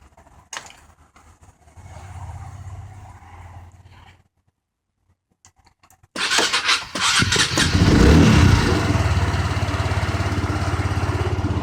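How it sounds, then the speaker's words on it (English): A Honda SH 125i scooter engine, first a quiet low idle, then a pause of near silence before it starts with a burst and settles into a loud, steady close-up running idle while warming up. "then start the engine, let it warm up."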